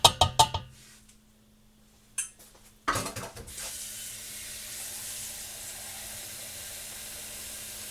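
Water runs from a kitchen tap into a pot holding chicken bones for broth. A few clanks of pots and utensils come first, then a steady rushing flow that carries on to the end.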